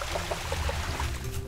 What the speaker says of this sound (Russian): Ладно, надо набрать воды.